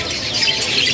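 Canaries chirp and warble at a bird-market kiosk, a steady close twittering of several birds over a dense background hiss, continuous for the brief moment without speech.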